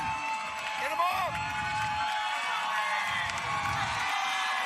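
Crowd at a state high school baseball championship game cheering and whooping for a batter, a broad roar swelling in waves, with an announcer talking over it.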